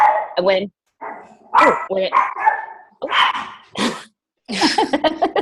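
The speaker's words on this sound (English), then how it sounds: "usually it's my dogs" Dogs bark and yip in bursts during an online mediation session, several short sharp barks and whimpering yips with gaps between them, loud and close.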